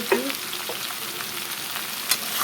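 Pumpkin pieces and green chilies fry in oil in a pan, a dense, steady sizzle running throughout with a couple of sharp clicks of stirring, close and loud with no talk.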